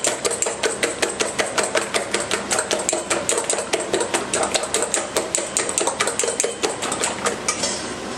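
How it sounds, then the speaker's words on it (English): Eggs whisked briskly in a bowl for a Spanish tortilla, a rapid, steady series of close metallic clinks against the bowl, sustained throughout with no talking. "Have to whisk them really, really well"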